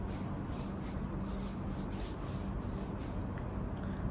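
Thick sunscreen is rubbed into skin in a steady, close, soft swishing friction with faint rhythmic strokes, continuous and without talk.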